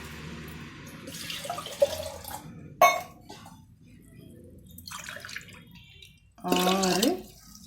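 Tumblers of water are poured into a pot for venpongal, several short splashing pours separated by pauses, the last one loudest, with faint voices in the background.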